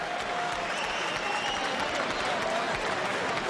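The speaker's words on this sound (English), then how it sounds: "he's up, and will get quite a nice round of applause here" An arena crowd at a heavyweight boxing match applauds after a knockout, as the fallen fighter gets back up. The clapping is steady and sustained for several seconds, heard from a distance with a general crowd murmur beneath it.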